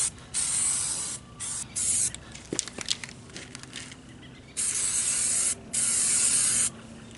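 Spray coating hisses onto a trailer roof in close, loud bursts, several sustained sprays separated by short pauses with light handling clatter between them.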